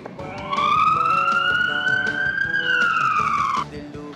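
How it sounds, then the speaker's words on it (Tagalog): A civil defense siren sounding for a nationwide simultaneous earthquake drill, a loud wailing tone that rises, holds and then falls away, with faint background noise underneath. "Pagtunog ng sirena sa loob ng 1 minuto."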